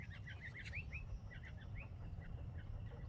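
Several birds chirp and call in short, repeated rising notes over a steady low rumble of background noise, moderately distant.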